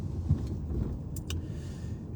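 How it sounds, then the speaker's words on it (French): Morning road traffic in Lille is a faint, steady low rumble of passing cars with no distinct single vehicle standing out, and no voices over it. "Elle n'est pas si fluide que ça, la circulation."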